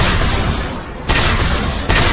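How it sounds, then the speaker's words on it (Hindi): A loud anime explosion roars as a dense, sustained blast of noise. Two fresh surges of booming rumble hit in quick succession. "धमाका है"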